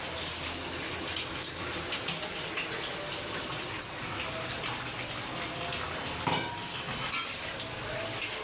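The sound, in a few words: chicken curry frying with masala in a pan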